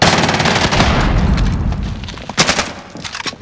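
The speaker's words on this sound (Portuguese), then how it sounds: "Lançando uma granada!" In Call of Duty Warzone, loud, close gunfire rattles in rapid bursts, then sharp blasts and scattered shots break through near the end as a grenade goes off, with no talk.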